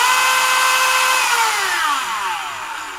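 A Ryobi P460 One+ cordless multi tool runs at full speed, a loud high-pitched whine that stays steady and then drops in pitch as the motor winds down, close up with no talking.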